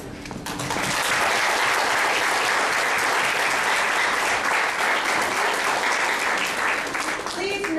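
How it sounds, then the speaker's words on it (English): A school audience bursts into sustained applause for teachers at a language center event, a dense roar of clapping that starts suddenly and holds steady and loud, with voices mixed in beneath it. "can you please applaud our teachers?"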